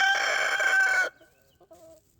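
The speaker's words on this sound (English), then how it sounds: "Keep clucking." On a homestead, a rooster gives a loud, harsh call lasting about a second, then drops to a few quiet, brief clucks nearby.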